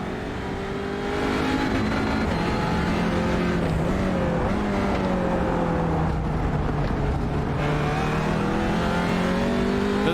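An Audi TCR race car on track at Okayama, its engine droning loud and steady with rising and falling pitch through gear changes, sustained for the whole stretch with no talk.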